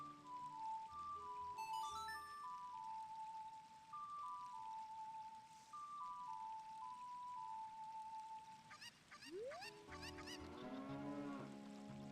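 Cow mooing in the video game Zelda Ocarina of Time: a short ocarina-like melody plays first, then a drawn-out, rising moo sounds clearly near the end, with no talk.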